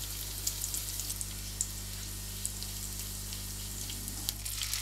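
Minced garlic and two chili peppers frying in olive oil in a pan, a steady soft sizzle with faint crackles and pops throughout, no talking.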